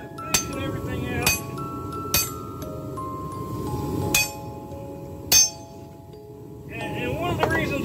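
A big hammer strikes a raw cutlass machete blade during forging, sharp metallic clangs landing every second or so, loud and close, over steady background hum.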